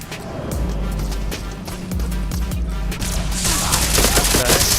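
Rapid bursts of gunfire from the VR shooter game Larcenauts, loud repeated shots in quick succession over a dense, busy game soundscape, with heavier blasts toward the end.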